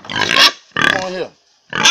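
Pigs in a pen in Jamaica give short, loud, close grunts and squeals in three bursts with brief pauses between them.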